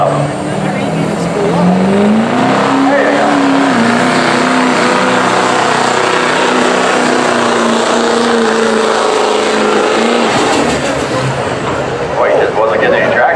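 A diesel pickup at a truck pull revs hard under load, one loud continuous engine roar with rising and falling pitch, while an announcer talks over it.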